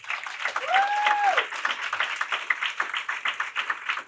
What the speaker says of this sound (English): So give Primerica a round of applause.